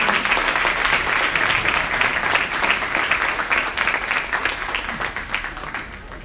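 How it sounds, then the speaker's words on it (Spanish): A congregation claps loudly during a church service, the applause dense and continuous at first, then gradually thinning and fading toward the end. "Fuertes aplausos a nuestro Señor Jesús"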